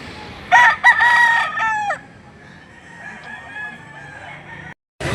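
A rooster crows loudly and close a couple of times among chickens clucking at a livestock auction market, followed by quieter ongoing fowl calls and a low background murmur.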